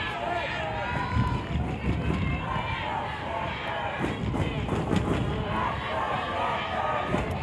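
Stanford supporters roar and cheer in a packed soccer stadium in Cary, North Carolina, during the women's college cup final against Florida State, a loud continuous crowd wash running under a commentator's voice.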